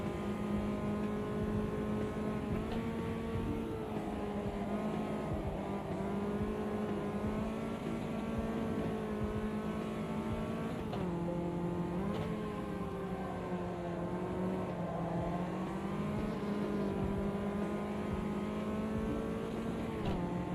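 A Caterham's engine in the racing sim Automobilista 2 hums steadily from start to finish, its pitch rising and falling with throttle and gear changes, a continuous close drone with no voices over it.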